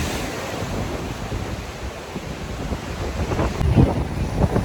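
Waves surge and wash against rocks along a slippery shore, a continuous rushing roar swelling louder toward the end, with wind buffeting the microphone.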